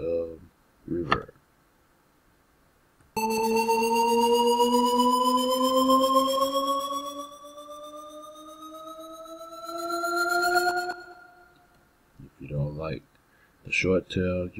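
A bright synthesized riser made with 3xOSC in FL Studio sweeps steadily upward in pitch with a reverberant tail, preceded and followed by brief speech.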